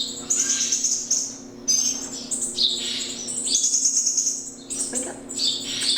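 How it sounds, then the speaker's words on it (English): Baby songbirds, a titmouse, a sparrow and two blue jays, chirp loudly and insistently at close range, with overlapping high begging calls in dense bursts and short gaps, over a steady low hum. "I'm about to feed some 20-minute baby birds. These are our small bug-eating birds"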